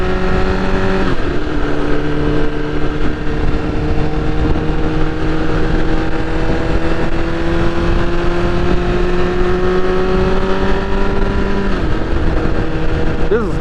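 BMW S1000RR sport motorcycle running on its stock muffler, a steady loud engine drone with shifting pitch as it rides along, wind and road noise mixed in and a voice talking over it.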